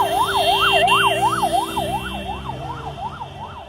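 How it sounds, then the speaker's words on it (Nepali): A loud ambulance siren in Kathmandu wails, rising and falling in a steady, rapid cycle, close by and gradually fading as it moves away. "एम्बुलेन्स यहाँनिर"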